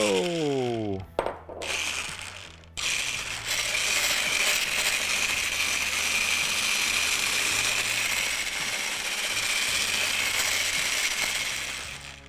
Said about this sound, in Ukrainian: 200 грам вершків, 150 грамів цукрової пудри. І збиваємо все гарно, гарно в такий.